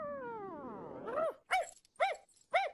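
A cartoon dog starts with a long rising howl-like whine, then gives three short, loud, evenly spaced barks, clear and close with no talk.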